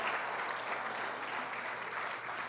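Church congregation applauding during a Portuguese-language worship service, steady dense clapping from many hands that stays even and moderately loud for the whole short stretch.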